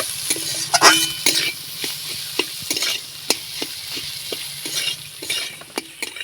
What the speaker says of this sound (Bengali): এবার আমি নাড়াচাড়া করে সব কিছু ভালো করে কষিয়ে নেব